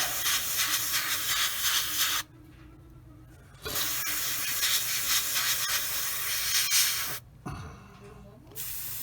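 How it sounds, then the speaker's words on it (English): Steady hissing bursts of spray paint onto a Bandai 1/72 X-Wing Starfighter model kit, starting and stopping a few times, close and continuous between short pauses. "start spraying it on there."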